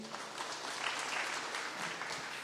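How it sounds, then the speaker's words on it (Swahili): Audience applause for Honourable Winnie at an outdoor political gathering in Ruiru, a steady wash of many hands clapping throughout, fairly distant and even in loudness. "Mheshimiwa Winnie, tumpigie makofi."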